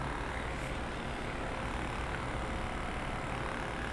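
A loud, constant motorized drone of a Recover Fun Mini Massager handheld massage gun running at speed, buzzing steadily without pause for the whole stretch.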